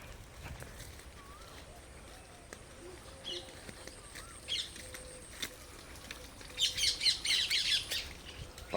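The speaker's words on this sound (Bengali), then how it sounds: "পাখির আওয়াজ" Birds call in the countryside, sending out scattered squawks and short chirps. A louder burst of rapid high calls comes near the end, over a quiet outdoor background.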